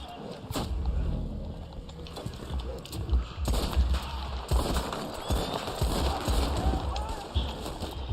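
Horse hooves clip-clop in the Red Dead Online video game, a steady patter of several hoofbeats running under game noise and background talk.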